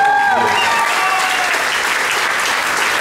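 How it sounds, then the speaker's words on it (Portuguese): Audience applause at a bar show, loud dense clapping from a crowd filling the room, steady throughout with a brief voice and whistles at the start. "Um forte aplauso, seja bem-vindo"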